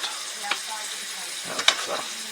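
Deer heart sizzles and fries in a pan, a steady close hiss with a couple of brief scraping stirs, no talking.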